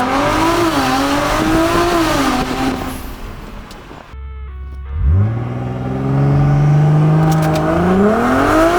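A very loud, aggressive tuned car engine with a JB4 tune, built toward 1200 wheel horsepower, heard from inside the cabin as it revs and accelerates in rising, droning surges with a brief lull midway.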